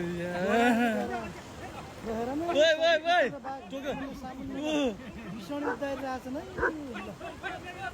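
A dog barks and yelps in short pitched bursts with whiny tones, close by, with faint background chatter.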